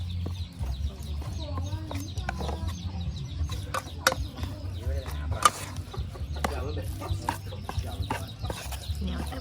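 Chickens clucking in a Thai home setting, scattered short clucks and squawks close by over low background hum and intermittent voices.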